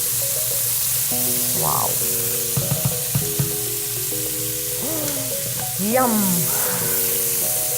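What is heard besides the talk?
fried pine nuts sizzling as added to rice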